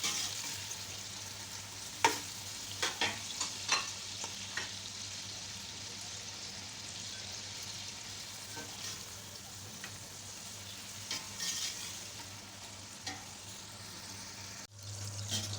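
Onions fry in a pot for degi yakhni pulao, a steady soft sizzle with scattered clicks and taps of stirring and a faint water trickle, no talking.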